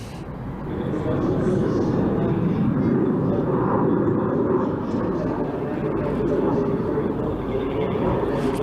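A Harrier GR7 jump jet roars in a sustained broadband rumble as it climbs steeply after a high-speed pass at an air display, loud and continuous, with a commentator talking over it.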